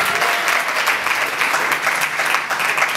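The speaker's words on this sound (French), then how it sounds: "Applaudissez-vous un peu." An audience at a stand-up comedy show in Sousse, Tunisia breaks into loud, sustained applause, with dense clapping that holds steady throughout.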